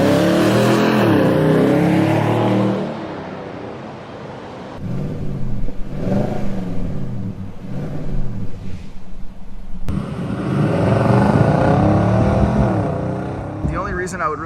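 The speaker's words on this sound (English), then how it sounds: "the Nissan Titan has a beautiful exhaust note even from the factory" A 2021 Nissan Titan Pro4X V8 pickup, non-XD, with stock exhaust at about 66,000 miles, rumbles deep and loud while driving, swelling through gear changes and revs with a steady, throaty drone, close and prominent throughout.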